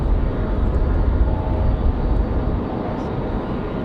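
An airliner arriving at Raleigh-Durham airport on a windy day, heard as a steady, loud low roar of engines and wind that holds for most of the span and eases slightly near the end.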